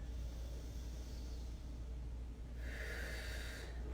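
Deep yoga breathing in a bedroom: a soft, airy exhale swells near the end over a quiet, steady background hum.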